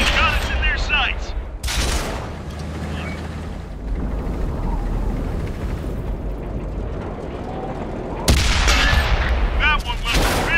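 Tank cannon fire in World of Tanks on Xbox One from a Nashorn tank destroyer, with heavy booming blasts near the start and again near the end over a continuous rumbling battle background.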